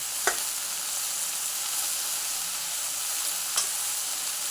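Leafy farm-grown greens frying in a pan give a steady broadband sizzle, broken by two sharp scrapes of a spatula turning them, one near the start and one near the end.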